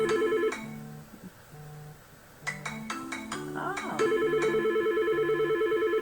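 A phone rings with a repeating electronic ringtone, steady tonal pulses over a low melodic pattern. It sits close and fairly loud while a voice briefly reacts over it.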